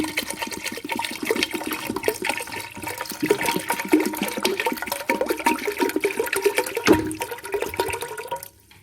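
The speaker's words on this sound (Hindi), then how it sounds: "पानी डाल देंगे इसमें।" Water poured from a container into a pressure cooker holding mixed dal and crushed spices, a continuous splashing, gurgling pour lasting several seconds that stops abruptly at the end, heard up close with no talking.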